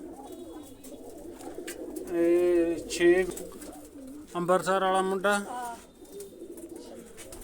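Soft pigeon cooing close by, heard mixed with someone talking in the foreground.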